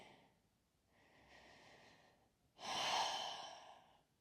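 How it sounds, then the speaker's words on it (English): Slow, audible breaths during a yoga practice session: a soft inhale, a longer exhale, then a louder, forceful breath, close and quiet with no talking over them. "Check the fluidity of your breathing."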